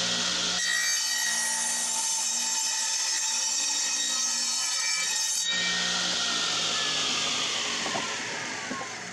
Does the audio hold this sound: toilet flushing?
no